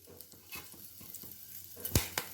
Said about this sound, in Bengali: এবারে এই তেলের মধ্যেই আমি দিয়ে দেব দিয়ে দিচ্ছি শুকনো লঙ্কা একটা তেজপাতা আর গোটা গরম মশলা